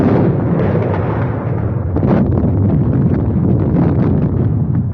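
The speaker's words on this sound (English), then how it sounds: "Somebody will have to crawl through that barrage." An artillery barrage from a 1930 war film pounds continuously, a loud, heavy rumble of overlapping explosions with a muffled, low-fidelity old-soundtrack character and no clear gaps.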